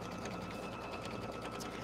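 An embroidery machine stitching a quilt block, a steady, continuous mechanical whirr and rapid needle chatter, close and unbroken throughout.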